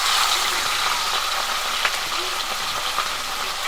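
Small fish coated with salt and turmeric frying in hot mustard oil, for a village-style Bengali gura machh chochchori; a loud, dense, continuous sizzle close by with a faint clink, no talk.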